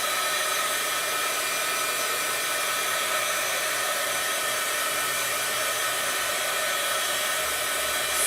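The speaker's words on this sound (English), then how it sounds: "let's do kind of a final hit with the heat tool" An embossing heat tool blows steadily on a birthday shaker card, a continuous close whooshing hiss of fan and hot air that holds level throughout with no pauses.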